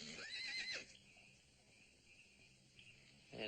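Horses neighing in the distance on a Western set, a shrill whinny at the start and another beginning at the end, with faint crickets in a quiet outdoor night between them.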